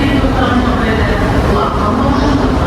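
A subway metro train rumbles and roars steadily from inside the carriage, a loud, continuous low drone with rattling, and no clear speech is heard over it.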